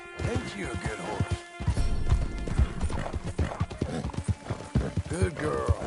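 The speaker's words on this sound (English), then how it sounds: "Ain't you a good horse?" A horse in Red Dead Redemption II clops along with rapid, close hoofbeats and lets out a whinny, the sounds running under ongoing male speech.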